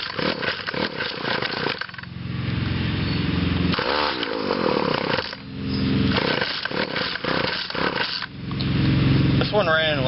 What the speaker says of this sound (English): We'll start Weed Eater GTI 19, my good one.